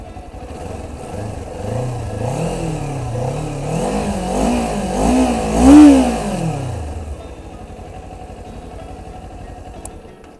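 A Kawasaki Z400 motorcycle engine fires up and revs in a few rising and falling throttle blips, peaking in one loud surge before settling to a steady idle, heard up close with no talk.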